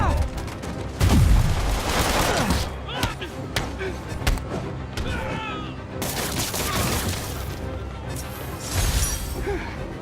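Gunfire and crashes from the video game Marvel's Spider-Man: bursts of shots mixed with slams and impacts over a busy game soundtrack, loud and dense, with in-game characters talking through it.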